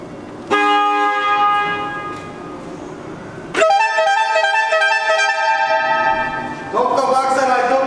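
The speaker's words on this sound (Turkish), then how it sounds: "Çiftli kornamız oldu artık." Repaired dual car horn on a Topkapı–Aksaray minibus, sounding three loud sustained blasts in a row, each a stacked two-tone chord, with brief gaps between them.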